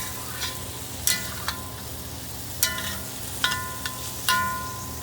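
Green beans stir-fry in a wok, a steady sizzle broken by several sharp clanks and scrapes of a utensil against the pan, close and with no talking.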